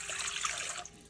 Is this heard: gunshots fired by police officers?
no